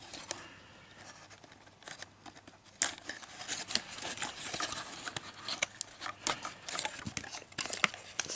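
Scissors snipping and cutting through taped toy car packaging, a quiet close series of irregular crisp snips and crinkly plastic rustles that grow busier toward the end.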